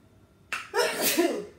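A single sneeze, a short sharp intake followed by an explosive burst, close and fairly loud against a quiet background.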